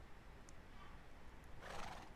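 A horse whinnies in a video game set on a Minecraft ranch, a faint, drawn-out neigh over a quiet background, ending with a sharp brief sound.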